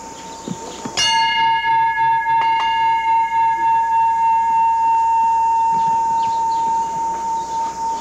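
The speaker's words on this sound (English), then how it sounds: "Did you ring the bell again?" A temple bell in the Himalaya is struck once, loud and close, its bright metallic tone ringing on and slowly decaying over several seconds, with a second lighter strike and faint background sounds beneath the long resonance.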